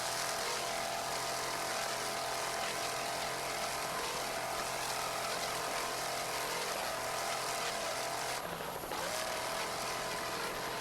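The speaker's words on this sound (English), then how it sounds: "That 650 horsepower Mercury engine sounds excellent as Wide Open makes its way through the lake." A racing powerboat with a 650 horsepower Mercury engine runs flat out across a lake, giving a loud, steady, continuous roar with a brief dip near the end.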